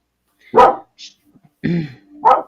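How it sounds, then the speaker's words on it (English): A pet dog at home gives a few sharp, close barks, spaced apart, with a quieter yip or whine between them. "My dog is barking."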